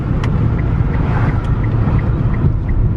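A cheap used fully electric car cruises at 41 mph, giving a steady loud road and wind rumble from inside the cabin with faint periodic ticks and no talking.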